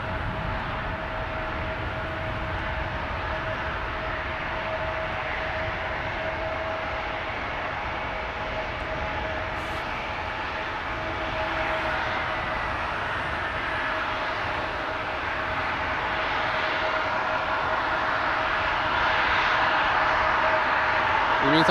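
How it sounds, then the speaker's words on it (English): A Delta Air Lines Airbus A330-300 jetliner departs Amsterdam Schiphol, a distant steady jet roar with a thin engine whine, swelling louder toward the end, while a person talks over it. "Delta Airlines Flight 91 to Orlando, Florida. A330-300 on its way."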